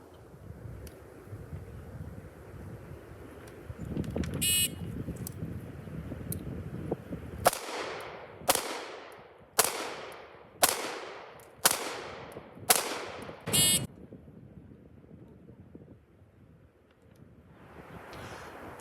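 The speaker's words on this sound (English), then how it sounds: "I'm going to draw and fire 6 rounds into the body of the target in a time limit of 9" Six sharp pistol shots from an S&W 469 fired in quick succession on an outdoor range, each crack followed by a short decaying echo, after rustling and wind noise, with no talk.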